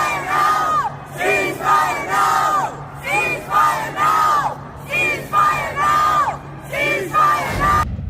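A large crowd of protesters in Tokyo rallying against Israel chants and yells in loud, rhythmic bursts, repeated call after call with brief pauses between, close and dense throughout.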